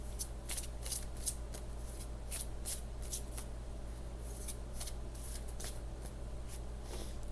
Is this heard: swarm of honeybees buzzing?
no